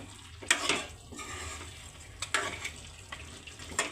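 Chicken curry being stirred in a pan over heat, with soft scraping strokes and light sizzling in several bursts, close and fairly quiet, no talking.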